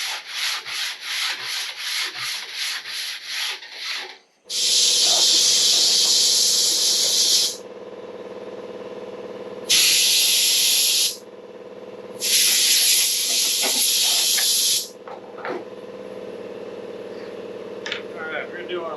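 An arcade cabinet being sanded with fresh-grit sandpaper during a Donkey Kong restoration. Loud, harsh rasping bursts come in three long strokes with pauses between them, and a voice is heard before and between the passes.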